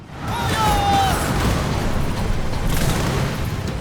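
A loud, dense barrage of pirate ship cannon blasts in the game Skull and Bones, booming together into a continuous rolling rumble, with the roar sustained throughout.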